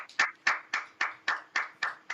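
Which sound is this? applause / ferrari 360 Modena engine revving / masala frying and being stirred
applause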